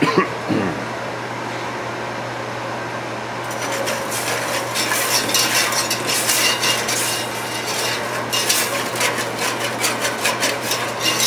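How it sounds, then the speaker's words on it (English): A pan of beef stew is deglazed with wine while a utensil scrapes its bottom, giving a continuous sizzle with rasping, rhythmic scrapes that grow busier after a few seconds, near and fairly loud, with a low steady hum beneath. "Wine, and I'm going to scrape that a little."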